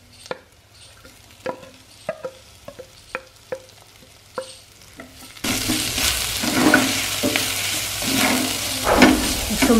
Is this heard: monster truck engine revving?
no